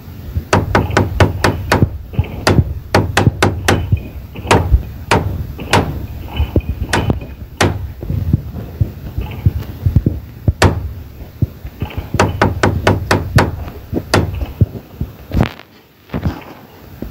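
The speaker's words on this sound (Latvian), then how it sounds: "Tie ir āmurs, nagas un dēļ, ar tiem mēs varam aizmūrēt durvis." Hammer blows drive nails into boards to board up a door in a video game, loud close strikes falling in quick bursts of rapid knocks with pauses between.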